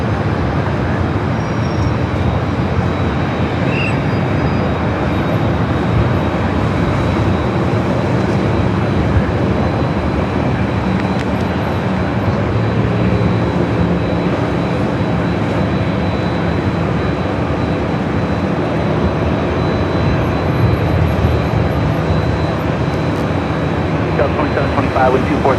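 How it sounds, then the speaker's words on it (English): A Delta Boeing 757 departs from LAX with a steady, loud broadband jet roar that holds throughout, while radio-style talk runs over it. "All right, we got that Delta 757 up next."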